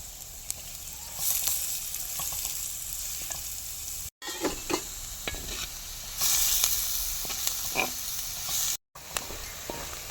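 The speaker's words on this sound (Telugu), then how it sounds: "ఉల్లిపాయ ముక్కలు వేసుకొని మంచిగా పచ్చి వాసన పోయేంత వరకు వేపుకుందాం ఫ్రెండ్స్." Chopped onions fry in a pan for village-style gongura chicken with a loud, steady sizzle. Clattering stirs and scrapes of a spoon come and go, with two brief silent gaps.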